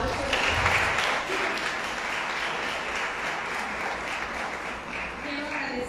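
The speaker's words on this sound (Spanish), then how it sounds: "Le damos un aplauso." Audience at a parenting conference applauding, a dense steady clapping that swells at first and then holds loud throughout, with a voice speaking over it near the start.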